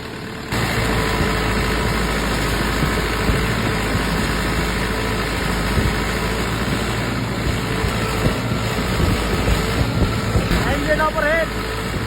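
The Isuzu diesel engine of a ZX110 excavator, just back from a top overhaul, idles with a close, steady, rumbling chug throughout, while people talk nearby.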